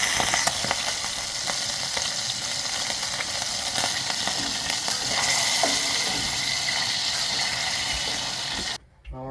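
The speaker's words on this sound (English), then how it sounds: "And to give them that final little saute after I have cut them open." Deer testicles, cut open, get a final sauté in a pan, giving off a steady close sizzle and crackle with occasional stirring, until the heat is cut near the end.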